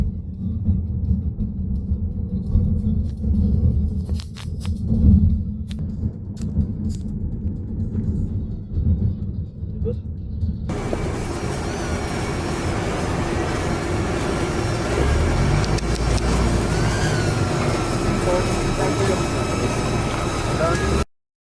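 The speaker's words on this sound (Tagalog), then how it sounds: "the final legs, we're gonna drive again this Carnival SX Plus Hybrid" A Kia Carnival SX Plus Hybrid minivan drives along, first as a low, muffled cabin rumble, then with a loud, steady rush of road and wind noise taking over.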